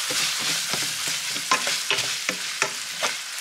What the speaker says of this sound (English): we're gonna add in half of a large onion that I've diced